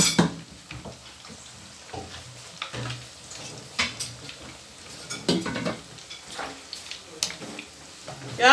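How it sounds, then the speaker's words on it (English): Stew of tomato puree simmering in a pot over low gas heat, with intermittent scrapes and clinks of a spoon stirring against the pot and a soft continuous sizzle, close and moderately quiet. "Going to stir, and I'm going to allow it to cook"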